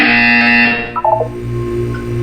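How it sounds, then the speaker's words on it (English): A loud, harsh buzzer in Portal 2 blares for just under a second, then gives way to a few short electronic blips over a steady low hum. "You will hear a buzzer."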